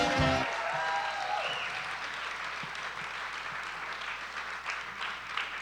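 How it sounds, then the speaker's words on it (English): Audience applause at a festival Q&A after a film screening, a sustained dense clapping from a large crowd filling the room; a brief voice or tone at the very start, then steady applause. "can we have another round of applause?"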